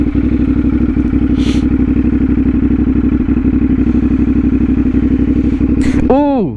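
A CFMOTO 450SS motorcycle fitted with a new aftermarket exhaust runs steady and loud, with rapid engine pulses throughout, a brief rasp of revs near the middle, and a rising, blipping downshift burst at the end.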